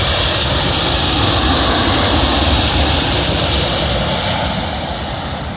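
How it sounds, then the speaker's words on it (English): An Etihad Boeing 787 from Abu Dhabi arriving on runway 27L at London Heathrow, a loud, dense jet engine roar that holds steady and then eases slightly as the aircraft passes. "Arriving in now is an Etihad Boeing 787 from Abu Dhabi to London Heathrow."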